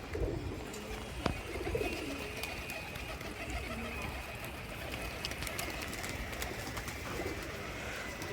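Released pigeons coo softly and repeatedly outdoors, with occasional sharp wing flaps and clicks, fairly faint and unhurried, no talking over them.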